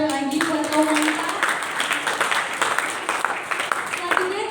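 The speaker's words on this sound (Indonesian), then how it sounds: "Boleh beri tepuk tangan sekali lagi buat kaum wanita." A church congregation at an Easter service applauds, a dense, continuous patter of many hands, with a voice talking over it.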